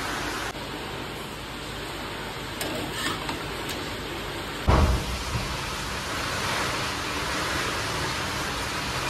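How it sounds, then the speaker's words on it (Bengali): Heavy rain pours down in a dense, steady hiss, with a short louder thump partway through and no voices. "আর সেইদিকে তো বৃষ্টি হচ্ছে, যা আওয়াজ হচ্ছে বাপরে বাপ"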